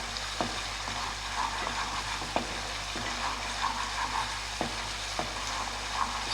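Tomato puree sauce bubbling and frying in a pan under a continuous sizzle, with a spoon tapping and scraping the bottom at irregular intervals as it is stirred.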